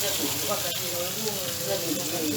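Duck breast magrets frying in a pan, giving a loud, even sizzle with a brief scrape as they are turned, and a voice speaking beneath.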